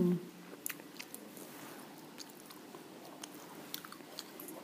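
Sushi being eaten close to the microphone, with steady soft chewing, wet mouth sounds and small crunchy bites throughout, starting with a short hum.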